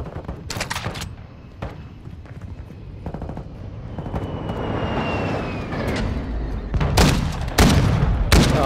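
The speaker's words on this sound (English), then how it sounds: "Friendly stealth bombers overhead." Heavy gunfire and automatic bursts in a Call of Duty: Modern Warfare II match, with a stealth bomber strike overhead: a long roaring sweep and a descending whine build through the middle, and loud explosive booms hit near the end.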